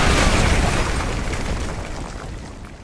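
A danger-close artillery strike explodes in Call of Duty Modern Warfare 2, a loud heavy boom with a rumbling roar that slowly fades, and no talk.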